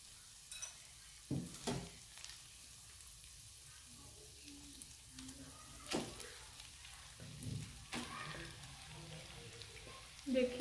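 Macaroni being stirred with chicken and vegetables in a pan, soft sizzling under intermittent scraping and clinking of a spoon, fairly quiet with scattered knocks.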